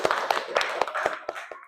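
At an Islamic religious education teacher-training session, a small group gives a short burst of sharp, rhythmic hand claps, about eight distinct claps in under two seconds, close and fairly loud.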